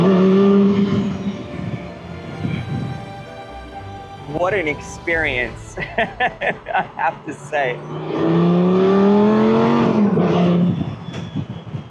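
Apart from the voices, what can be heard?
Lamborghini Gallardo Concept S car driving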